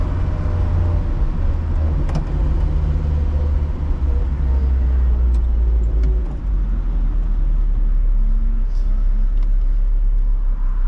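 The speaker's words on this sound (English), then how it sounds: "the engine is extremely snappy and torquey" A 1965 Volvo 544 with a four-speed gearbox drives along, its engine a loud, steady low rumble with road and wind noise filling the cabin throughout, no talking.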